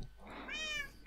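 A single short meow from a cat in the video game Minecraft, clear and fairly close, rising then falling within about half a second against a quiet background.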